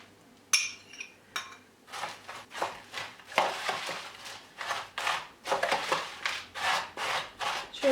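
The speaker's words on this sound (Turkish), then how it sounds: "Tereyağımı da döküyorum ve karıştırıyorum." Spoon scraping and clinking in a bowl as melted butter is stirred into crushed biscuits for a no-bake cake, with repeated rhythmic gritty scrapes growing steadier, close and fairly loud.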